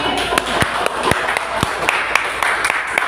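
A classroom of students claps together for a classmate, a run of roughly ten crisp, evenly timed beats in a rhythmic pattern, close and fairly loud, with faint voices in the background.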